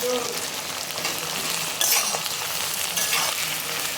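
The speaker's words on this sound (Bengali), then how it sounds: "এটা তেলের মধ্যে ভেজে নিচ্ছি ভালো করে।" Chopped onions, two large ones, fry in hot oil for a chicken curry, a steady close sizzle with occasional stirring and a faint clink of utensil against the pan.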